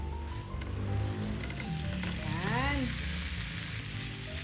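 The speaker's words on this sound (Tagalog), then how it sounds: "Igisa lang natin." Steady frying sizzle from pork sautéing in a hot pan, continuous and close, with a brief high whistling tone rising and falling near the middle.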